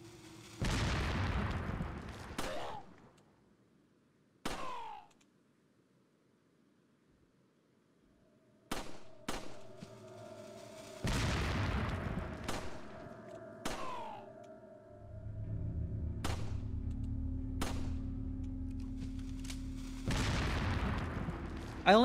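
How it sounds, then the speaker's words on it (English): Dynamite goes off in Resident Evil 4 with several heavy booming blasts spread through the stretch, separated by quieter gaps and sharp smaller cracks, plus a low droning rumble near the end. "Is that fucking dynamite?"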